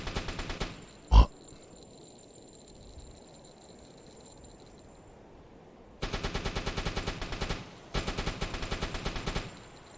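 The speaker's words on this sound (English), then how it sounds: "I'm strafing the waterline with the fucking machine gun." Machine gun fire from the submarine game UBOAT strafing a ship's waterline. A single loud shot comes first, then two long rattling bursts of rapid, evenly spaced rounds, with quiet sea ambience between them.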